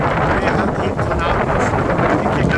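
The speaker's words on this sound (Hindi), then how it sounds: "हवा बहुत तेज चल रही है और बारिश तेजों से शुरू हो गई है।" Strong wind blows by the Ganga river at Sultanganj as a storm brings rain. It makes a loud, continuous buffeting roar against the microphone with no break.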